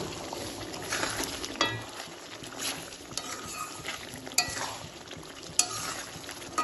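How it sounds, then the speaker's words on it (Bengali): Chicken do pyaza being stirred in a pan on the stove, a scraping spoon with irregular clanks and soft sizzling, close by, with a few sharper knocks against the pan. "আবার একটু নেড়ে দেব।"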